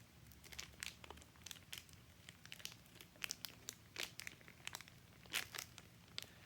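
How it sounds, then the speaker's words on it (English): Thin plastic packaging around Mira Safety P3 ParticleMax filters is ripped open and crinkled by hand, giving a close, quiet string of rapid crackles and tearing rustles with no talk. "Just rip the corner open."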